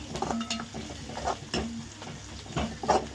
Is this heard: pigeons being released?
no